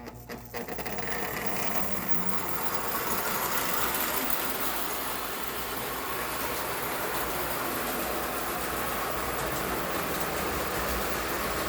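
A model steam locomotive hauling a freight work train runs steadily, giving a continuous, even mechanical rumble and rolling hum from start to finish, loud and close with no talking.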